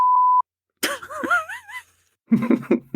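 A short steady electronic censor beep in a podcast at the start, then a pause, followed by a person's voice and another voice further on.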